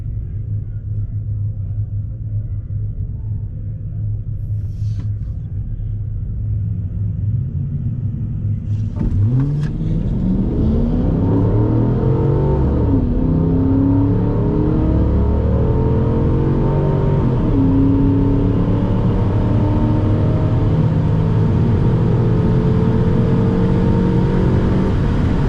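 A Ford BF mkII XR8 ute making a quarter mile drag strip run, heard from outside: a low rumble builds into a loud, revving engine that climbs through the gears and holds steady and strong to the end.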